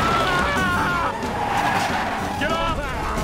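A cartoon car skids and squeals as it drives, a continuous rushing engine and tire noise under frantic shouting voices throughout.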